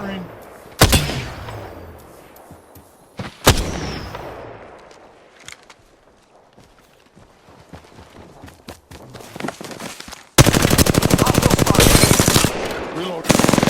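Gunfire from the video game Apex Legends: a few sharp single shots early, then a loud, sustained rapid burst of automatic fire near the end.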